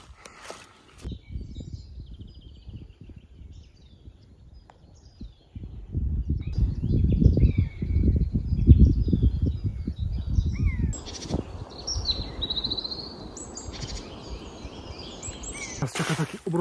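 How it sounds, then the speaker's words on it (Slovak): Birds call among blossoming trees along a walking route, with crow-like caws and chirps scattered high above. Footsteps and rustling grow louder through the middle. "Vtáčiky čvirikajú."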